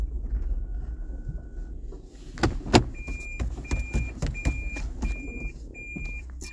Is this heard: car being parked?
yes